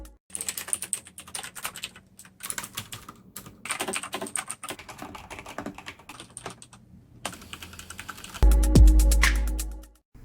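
Rapid clicky keystrokes on mechanical keyboard blue switches, close and steady in uneven bursts with brief pauses, ending in a louder thump near the end.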